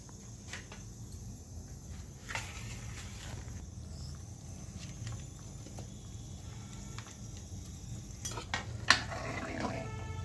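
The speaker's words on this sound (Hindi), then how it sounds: "अब इसी में अपने पकौड़े डाल देते हैं।" Bottle gourd kofta pakoras going into a pan of boiling gravy, quiet bubbling with scattered clinks and scrapes of a spoon against the pan, with a sharper clatter near the end.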